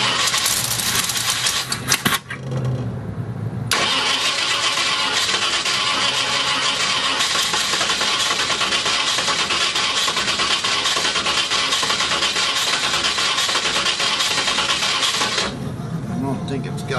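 A Ford 331 stroker engine that had sat for five years catches and runs, a steady loud roar holding after a brief cranking stutter, with a short drop near the end.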